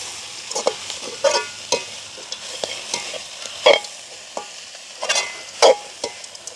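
Peanuts, plums, green peas and cashews are stirred in a pan in a village kitchen, giving irregular scraping and clattering strokes over a soft sizzle, close and fairly loud, with no talk.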